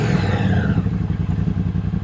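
Triumph Speedmaster cruiser in chrome with chrome cut exhaust pipes, its deep engine rumble loud and close as it pulls away and cruises, steady low throbbing with a brief rising rev at the start.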